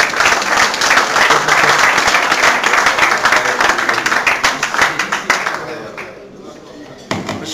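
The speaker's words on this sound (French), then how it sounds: "on l'applaudit" Dense audience applause at an award ceremony in Istanbul, loud and sustained, thinning toward the end into scattered claps with a final brief burst.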